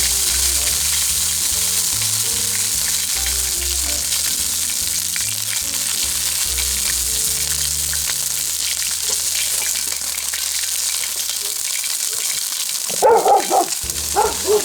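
Sirloin steak fries loudly in a wok, a strong steady sizzle with scraping and stirring noises, ending with a few short dog barks.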